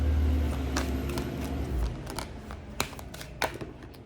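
Tarot cards being shuffled by hand, crisp riffling flicks and sharp snaps that grow clearer as the low rumble of a passing garbage truck fades out.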